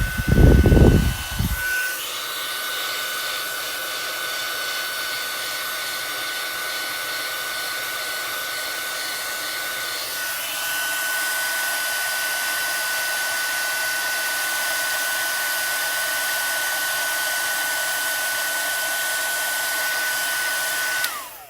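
A heat tool melts glittery embossing powder on a card, opening with a brief clatter before a steady, loud fan-like whoosh with a thin whine that runs unbroken and grows slightly louder partway through, with no voices.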